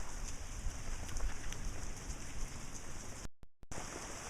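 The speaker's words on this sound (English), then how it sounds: "the rain has kept up" Steady rain falls on open ground near a meadow after a drought, a continuous close hiss of drops with no voices, broken only by a brief dropout near the end.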